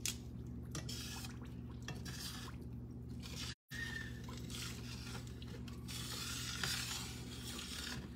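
Sugar being stirred and caramelized in a pan on the stove, with a steady soft sizzle and occasional scraping and clinks of a utensil against the pan, close and continuous, with no talking.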